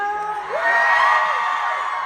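Fans at a live concert at Pasinaya 2026 cheer and shout in a brief, loud burst of whoops and yells that swell then hold steady.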